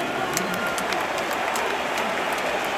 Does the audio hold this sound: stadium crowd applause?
yes